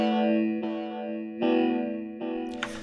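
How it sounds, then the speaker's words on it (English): Rendered synth chords with auto-filter shaping, distorted and chorused, strike four times in sequence, each swelling and fading, carried by an echo send that adds trailing delay repeats. "it's routed to the echo send for this section, which is why there's the delay on it."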